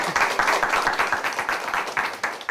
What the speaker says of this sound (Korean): 감사의 박수를 드리면서 보내드리도록 하겠습니다